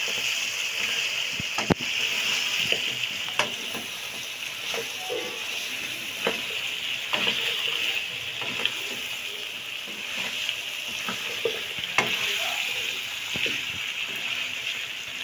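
Chunks of meat and potatoes frying for aloo gosht curry, giving a steady hissing sizzle throughout with scattered faint clicks and scrapes, moderately loud, with no talking.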